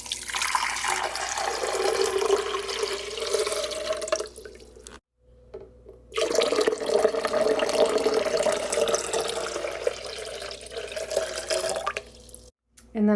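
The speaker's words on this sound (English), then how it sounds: "So I am just going to add the water." Water poured into a blender for making hemp milk, a loud steady splashing stream that breaks off briefly twice before resuming, close up.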